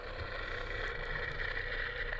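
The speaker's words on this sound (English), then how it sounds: "It's the engine noise." A boat engine hums underwater near a Civil War shipwreck among mangroves, a steady, muffled droning drone that stays constant throughout without any talking.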